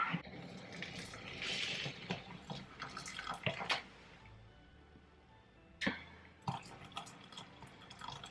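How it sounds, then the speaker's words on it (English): Boiling water poured for sage and onion stuffing in a home kitchen, a broad splashing, trickling burst followed by quieter gaps and a few sharper knocks and drips near the end, close and moderately loud with no talking. "I need 425 ml of boiling water"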